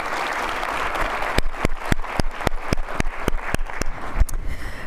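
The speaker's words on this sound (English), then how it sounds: "Can we please give them another round of applause?" An audience at a school district's State of the District event claps, a dense wash of applause whose sharp individual claps stand out in a quick run before it thins and fades.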